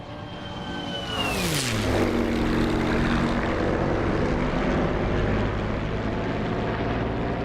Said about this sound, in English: I love the sound of these Warbird engines.